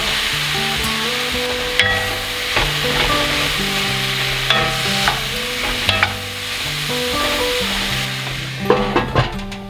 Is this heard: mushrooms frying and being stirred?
yes